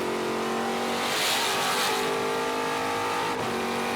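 Onboard a white Trans Am race car at Sonoma Raceway, the engine roars loud and continuous, pitch rising and falling through gear changes and revs, with faint tire squeal and other cars nearby.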